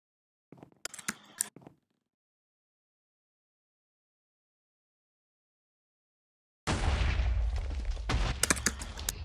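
A loud explosive blast erupts suddenly after near silence in Minecraft, a booming rumble with crackling debris that lingers for a few seconds; brief clattering sounds come earlier.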